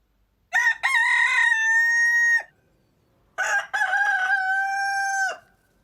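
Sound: rooster crowing

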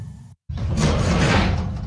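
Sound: door

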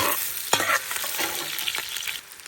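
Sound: salo cracklings frying in cauldron over campfire

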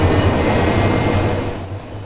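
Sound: helicopter engine in the video game DayZ

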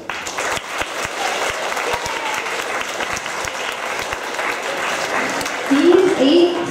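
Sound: audience applause at chorus concert

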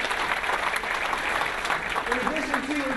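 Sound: audience applause

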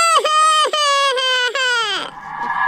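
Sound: baby crying in a video game (Indian Bikes Driving 3D)

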